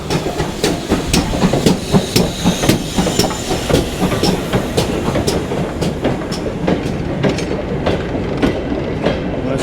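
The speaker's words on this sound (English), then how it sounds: "Well, that's a goods train." A goods train passes on the Great Central Railway during a winter steam gala: steady, fairly loud rolling rumble with rhythmic clickety-clack of wheels over rail joints throughout, and no voices.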